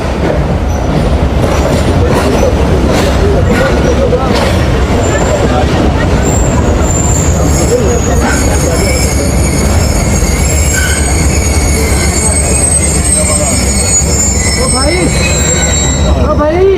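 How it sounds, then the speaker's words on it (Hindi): A Pakistan Railways passenger train pulls into Wazirabad Junction on a rainy journey, with loud continuous rumble, clacking and squealing wheels and high metallic screeches, heard close from aboard and steady throughout. "वज़ीराबाद जंक्शन पर आकर हमारी ट्रेन रुक गई है।"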